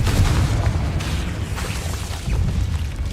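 A video game Confringo explosion spell erupts in a dense, rumbling boom with crackling bursts that sustain loudly for a few seconds.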